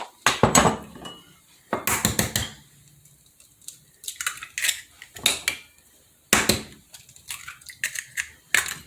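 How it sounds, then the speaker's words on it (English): Six eggs cracked into a dish for a breakfast casserole: sharp, close taps and cracks arriving in irregular clusters with brief quiet gaps, plus small clinks against the dish, and no one talking. "I'm going to break 6 eggs up in here."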